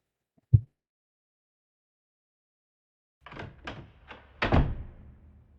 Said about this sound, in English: I stormed into the apartment and slammed the door behind me